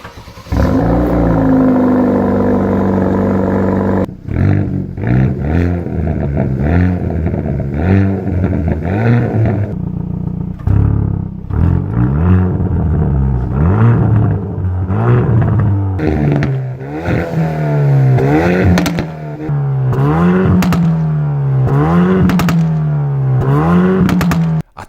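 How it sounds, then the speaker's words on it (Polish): Loud exhaust of a Hyundai i30 N 2.0 T-GDI revving up and down repeatedly, engine rising and falling in pitch with crackles between blips, close and continuous, no speech. "wydech był dokładnie taki sam jak w zwykłym i30N. Tak to brzmiało."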